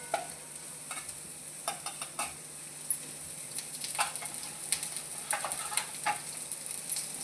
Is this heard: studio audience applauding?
no